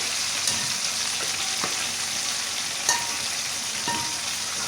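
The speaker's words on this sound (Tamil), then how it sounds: "சிக்கன் எல்லாம் நல்லா பொன்னிறமாக பொரிச்சு எடுத்துக்கணும்" Chicken pieces deep-frying in hot oil until golden, a dense, even sizzle with occasional pops and faint stirring clicks, close and steady with no talk.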